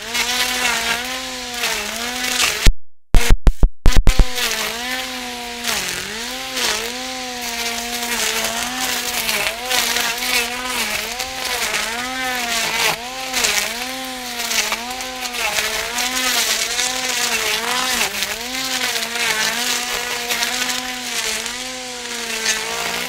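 Stihl FSA 60 R cordless grass trimmer with PolyCut 6-2 blades and an AK30 battery whirs steadily and loudly up close, its pitch rising and falling as it cuts, with a few sharp clicks early on.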